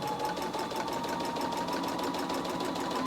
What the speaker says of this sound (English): I'm going to sew with my needle position 2 to the right of center